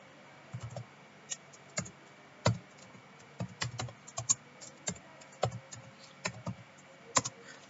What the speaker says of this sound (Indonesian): Di sini saya akan mengetikkan